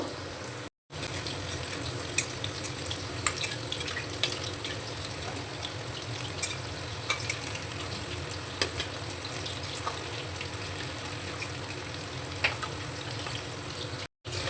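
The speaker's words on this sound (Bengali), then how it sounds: "গ্যাসের ফ্লেমটা মিডিয়ামে রেখে পকোড়াগুলো ভেজে নেব।" Chicken pakoras deep-frying in oil over a medium gas flame give a steady, close bubbling sizzle that runs throughout, with small crackles and pops, broken by one short gap near the start.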